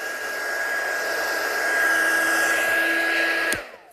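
A heat tool melts embossing powder on vellum, blowing a loud, steady whirring hiss with a high whine that cuts off abruptly near the end.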